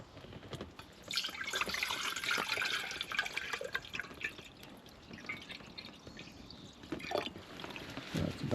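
Water splashes and trickles into a Petromax campfire coffee pot, an uneven run of pouring and dripping sounds close by that swells and fades in short bursts with no talk.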